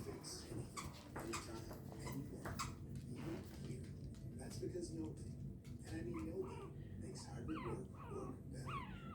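A Shih Tzu puppy whimpers and lets out small yips, faint and intermittent, while people talk quietly nearby.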